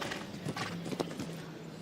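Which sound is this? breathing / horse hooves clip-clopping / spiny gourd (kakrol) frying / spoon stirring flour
horse hooves clip-clopping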